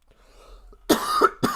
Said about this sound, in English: I have got a bit of a tickly cough today